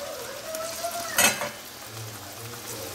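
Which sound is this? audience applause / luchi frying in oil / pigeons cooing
luchi frying in oil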